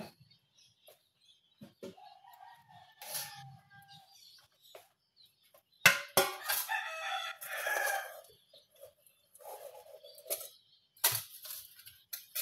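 Chickens cluck nearby in scattered bursts, with a rooster crowing loudly partway through and quieter clucks and ticks around it.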